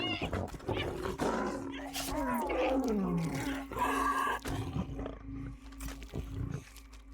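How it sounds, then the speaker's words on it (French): Large wolf growling and roaring during a scene in the video game Shadow of the Tomb Raider, fierce drawn-out snarls mixed with game music, and a player talking over it. "La scène avec le gros loup."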